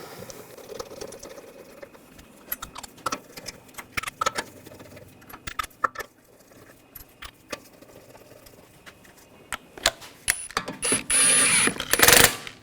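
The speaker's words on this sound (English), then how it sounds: "Get the bolt started." Wheel bolts on a 2007-2013 BMW X5 being threaded in and snugged down, heard as scattered close metallic clicks and rattles, then a loud buzzing burst of rapid ratcheting near the end.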